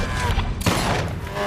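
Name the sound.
gunshot in the film Fast and Furious 6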